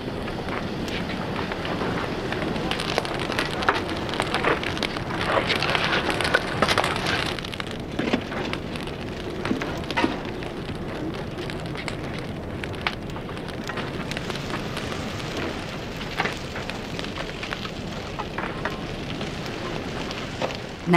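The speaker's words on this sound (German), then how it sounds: "salzen Josef Hüffel und Peter Hüffel mit vier Kellenfüllungen pro Öffnung zum zweiten Mal" A steady roaring, crackling rush like a fierce fire, with scattered sizzling pops and bursts throughout, loud and continuous, without any talking: salt shoveled by the ladleful into a hot stoneware salt-glaze kiln during firing.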